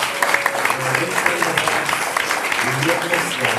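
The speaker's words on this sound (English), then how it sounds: "So if we could give all our retirees one big round of applause." A retirement-honoring crowd at a school governing board meeting claps steadily in a dense, even patter throughout, with a voice speaking over it.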